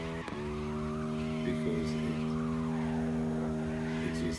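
Engine swapped with a 6.2 V8 roars steadily throughout a drift run in CarX Drift Racing 2, with tire skidding and squeal layered over the sustained harmonic drone and a voice talking over it.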